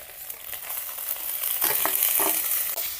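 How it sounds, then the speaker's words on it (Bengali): Spice paste stirred into hot oil with mashed pumpkin, chilli powder and salt, sizzling and scraping steadily up close, growing louder as the stirring continues, with no voices. "বাটা মশলা দিয়ে তেলের মধ্যে নাড়তে থাকবো"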